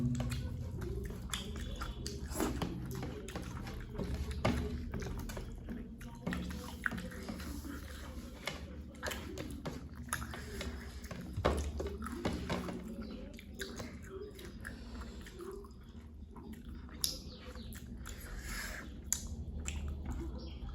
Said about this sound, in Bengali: মাছের ঝোলের একটা লঙ্কা পুরো চিবিয়ে খেয়ে নিলাম